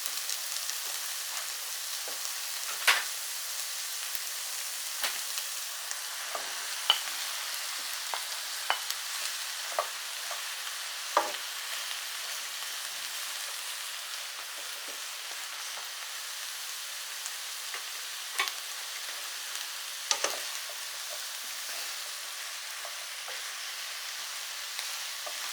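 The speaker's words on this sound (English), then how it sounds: "now that we've got the onions and the mushrooms just starting to brown" Onions, mushrooms and vegetables fry for Irish lamb stew, giving a steady, even sizzle with scattered crackles and soft stirring clicks. No one speaks.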